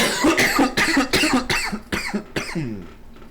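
A man coughs hard after water goes down the wrong pipe, a series of about seven close, harsh coughs in an uneven rhythm that trails off into a strained, voiced breath.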